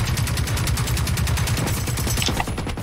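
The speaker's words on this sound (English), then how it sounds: "If you could put some suppressing fire on that thing" Rapid automatic gunfire fills a Generation Zero video game battle, a dense sustained burst of close, loud shots rattling steadily for the full stretch with no talking.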